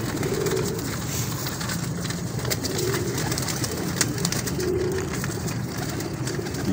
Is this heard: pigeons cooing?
yes